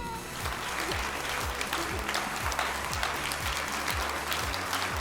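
Steady, dense audience applause at a semifinal of a televised talent show, Armenia's Got Talent, filling the whole stretch evenly with a rhythmic pulse of claps over a low music beat.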